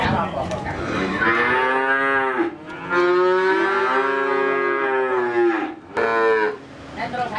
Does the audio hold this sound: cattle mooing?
yes